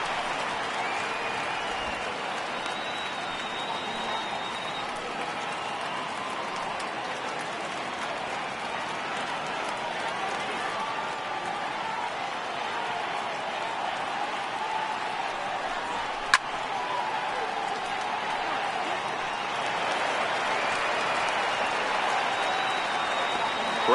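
A large stadium crowd of over 39,000 roars continuously in a PS4 baseball video game, a steady distant wash of cheering and applause with one sharp knock partway through.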